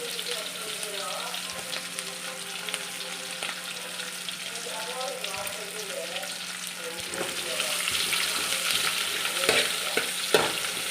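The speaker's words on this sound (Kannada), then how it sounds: "ಇದರ ಹಸಿ ವಾಸನೆ ಹೋಗೋ ತನಕ ಇದನ್ನು ಫ್ರೈ ಮಾಡಬೇಕು" A large onion, finely chopped, sizzles steadily in a pan, with scraping stirs now and then and the frying growing louder toward the end.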